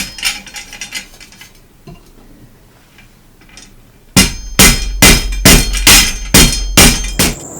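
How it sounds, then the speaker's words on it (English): Rubber mallet striking a wood block against the dented fender of a 1969 Schwinn bicycle, about eight loud, evenly spaced thumping blows following a few seconds of quieter handling noise. "In order to remove these dings from the back of the fender, I'll be using a rubber mallet and a block of wood."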